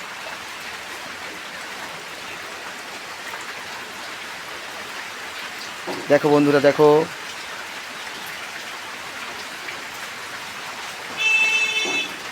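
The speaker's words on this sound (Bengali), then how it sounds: "বাইরে বৃষ্টি হচ্ছে" Steady rain falls outdoors near a shop, an even wash of patter throughout, with a short voiced interjection midway and a brief tonal horn-like sound near the end.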